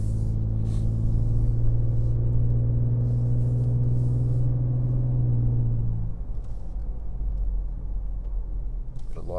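Engine of a next-generation Ford Ranger Raptor pickup held in third gear in sports mode, a steady loud rumble with a strong low drone that drops off and roughens after about six seconds, heard from inside the cab.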